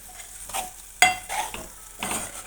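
Curry with curry leaves being stirred in a frying pan, a steady sizzle under a few scraping spoon strokes, one sharp clink near the middle, close and alone.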